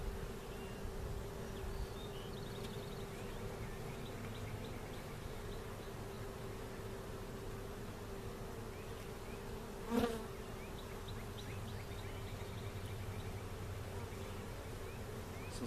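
Honeybees buzz around a brood frame lifted from a hive, a dense, continuous drone close by, with one brief louder knock partway through and no speech.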